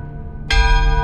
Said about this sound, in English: it was a bell that started it off